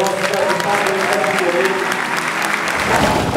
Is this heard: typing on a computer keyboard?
no